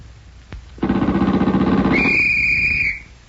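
A loud, shrill police whistle sound effect with a trilling rattle, rising to a higher steady pitch before cutting off, preceded by a brief click, from an old radio drama.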